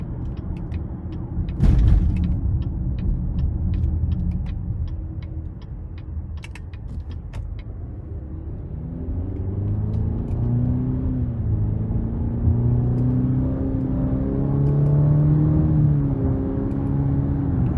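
A 2023 Cadillac XT5 with a 2.0-litre turbo four-cylinder pulls away in sport mode, a few sharp clicks early on before the engine's drone climbs steadily in pitch as it accelerates, heard from inside the cabin with no talking.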